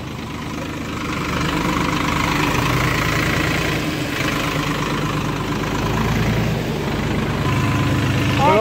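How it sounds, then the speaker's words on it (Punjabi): A Kartar tractor pulling an 11-tine cultivator through a field runs with a loud, steady low engine drone and a faint knock, close by and continuous. "ਟਰੈਕਟਰ ਕਿਵੇਂ ਆਪਣਾ ਹੈ ਚੰਗਾ ਚੱਲਦਾ"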